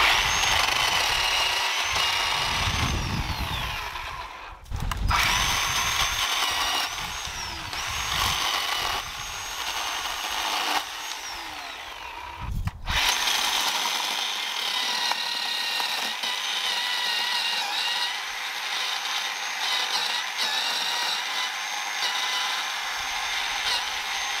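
A Bauer chainsaw cuts through a tree growing into a fence, its engine droning loud and close for the whole stretch, dipping briefly twice as the chain bites and the revs shift.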